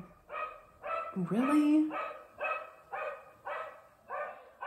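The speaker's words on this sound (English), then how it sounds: "You're going to have to listen to this dog." Dog barking close by in a steady, repeated rhythm of about eight barks, with a person briefly speaking over them.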